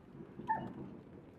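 A single short, soft yip from a puppy, faint and brief, against quiet background noise.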